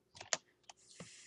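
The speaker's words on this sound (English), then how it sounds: "first we need to type in slash teleport at P" Fingers tap out a Minecraft command on a computer keyboard: a few quiet, separate keystrokes at an uneven pace, each a short click close by, with near silence between them.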